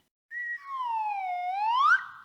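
A single loud, close whistled note that glides slowly downward, then sweeps sharply upward before cutting off, with no other sounds.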